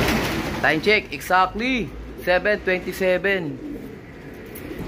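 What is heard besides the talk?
pigeons cooing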